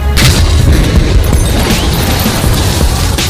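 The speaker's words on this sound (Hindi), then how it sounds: "and switched on the explosive. It exploded." An explosion sound effect, a loud heavy boom bursting out and followed by a dense rumbling, crackling roar that fills the whole stretch.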